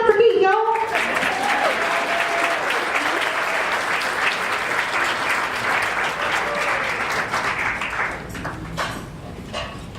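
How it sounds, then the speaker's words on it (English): Gala audience applause fills the room, dense and steady from close by, swelling briefly at the start and then tapering off near the end, with a few voices over it. "Clap for me, y'all!"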